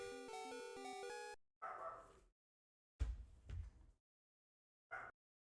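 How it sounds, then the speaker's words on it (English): A pet dog barks in a few short, separate bursts indoors. Electronic game music plays briefly before the barking starts. "And my dog's barking again."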